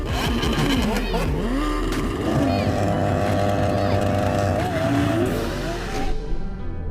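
A Ferrari 488 Pista, McLaren 720S and Lamborghini Aventador SV lined up for a drag race: engines rev and drone with rising, shifting pitch, heard from inside a car, with someone talking over the engine noise.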